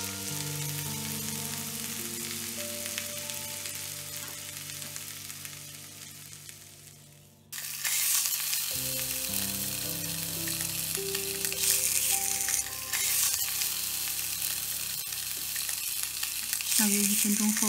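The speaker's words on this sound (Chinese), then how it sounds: "轻轻地压一压这些香肠，保证香肠的面全部接触到锅底" Breakfast sausages are pressed flat in a pan for an American-style breakfast. They fry with a continuous close sizzle under soft background music, and the sizzle grows louder and brighter about halfway through.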